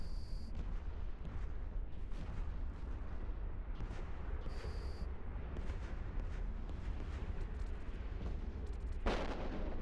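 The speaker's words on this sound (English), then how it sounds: "All the explosions." Dense, continuous rumbling booms and crackling blasts from space combat in the EVE Online video game, steady and loud throughout with a brief sharper burst near the end, no voices.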